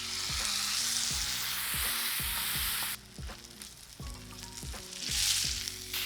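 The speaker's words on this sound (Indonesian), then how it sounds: "kini kita akan render dulu sebagian fat biar lebih banyak minyaknya" Steak fat sizzles and crackles steadily in a hot pan as it renders, a dense continuous frying hiss with scattered pops and some clatter, no talking.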